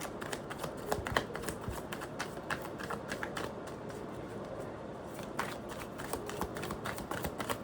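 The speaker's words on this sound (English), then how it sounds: "Alright, I'm going to shuffle a little bit more." Tarot cards being shuffled at close range, a steady run of soft riffling and flicking clicks with brief louder snaps, no talking over it.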